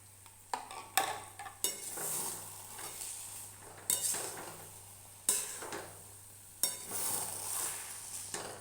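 Ghee and garam masala go into muri ghonto as it is stirred, giving a faint sizzle with spoon scrapes and occasional clinks against the pan, fairly quiet and close.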